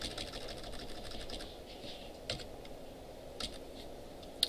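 Typing on a computer keyboard during a web database lecture, a steady stream of soft rapid key clicks with a few louder isolated taps, faint under room noise.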